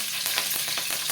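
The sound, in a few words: mustard seeds and curry leaves frying in oil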